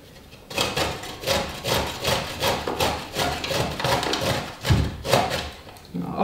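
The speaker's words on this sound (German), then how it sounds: "Mit der Reibe geht das schneller, kann man natürlich auch schneiden." Zucchini rubbed over a kitchen grater in quick repeated rasping strokes, a steady scraping rhythm close by with a brief thump near the end, while a person talks in the background.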